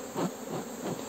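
Honeybees hum at a hive during a May colony check, a close, continuous buzz that swells and fades in a couple of brief surges.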